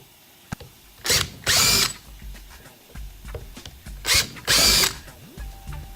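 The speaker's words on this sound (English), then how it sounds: "now we can drill out the rest of our holes." A power drill bores holes for a Scotty deck mount in two pairs of short bursts: a brief whir, then a longer grinding run, with quiet gaps between and no speech.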